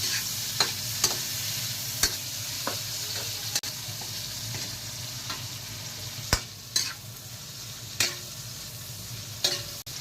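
Ingredients sautéing in a pan while cooking mussels, a soft continuous sizzle broken by sharp scattered clinks and scrapes of a utensil stirring against the pan.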